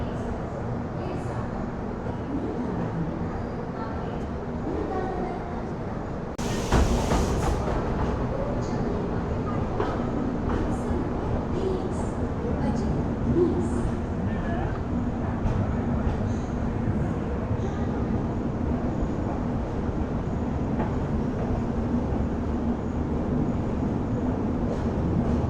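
Steady rumble and rattle of the Superfast Mail, an old passenger train, running from Chennai to Bengaluru, heard from on board. A loud rushing burst comes partway through, and people talk over the noise at times.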